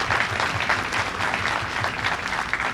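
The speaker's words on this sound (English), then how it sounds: "maybe we should give Ms. Evans a round of applause for doing a good job as well" An audience claps steadily for a PR director at a signing day event, a dense, even wash of applause throughout with no pauses.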